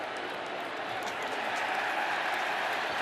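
A sellout crowd of more than 81,000 roars steadily at a college football game between Notre Dame and Clemson, a broad, continuous din with scattered claps and shouts throughout.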